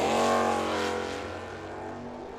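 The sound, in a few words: drag racing cars at Firebird Raceway, Corvette racing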